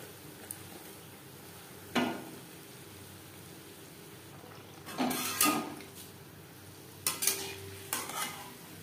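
Hing kochuri fry in a pan with a faint, steady sizzle, broken by a few brief clattering scrapes and stirs of a utensil against the pan, quiet and without speech.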